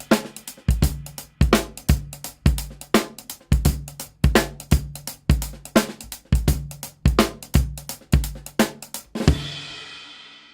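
Full drum kit plays a half-time rock shuffle groove, a steady loping pattern of bass, snare and hi-hat hits for about nine seconds, ending on a crash cymbal that rings out.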